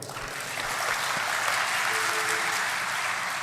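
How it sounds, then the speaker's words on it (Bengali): An audience in a hall at a student gathering applauds to congratulate honorees. The clapping is steady and dense and holds at a full, even level throughout. "আমরা সবাই একসাথে করতালির মাধ্যমে সবাইকে আমরা কংগ্রেচুলেট করতে পারি"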